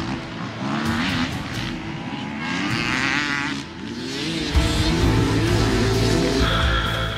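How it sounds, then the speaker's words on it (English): KTM enduro motorcycles in a race, engines revving and snarling loudly as riders charge past one another, with rising and falling whine and a heavier rumble surging near the end. "KTM factory rider Andreas Vattenbichler feels the pressure from the pack and charges past the Spanish rider Mario Roman."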